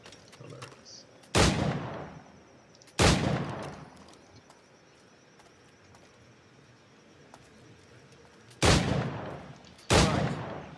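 Four sharp gunshots from a flintlock-era gun in the pirate video game Assassin's Creed 4 Black Flag, fired singly at uneven intervals and loud and close, each with a short decaying tail over quiet ambience.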